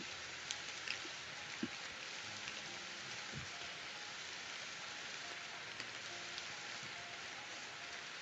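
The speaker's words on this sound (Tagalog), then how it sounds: "Kasi umuulan na." Steady, fairly quiet rain falling outdoors, a constant wash of patter with a few louder drops landing near, no voices.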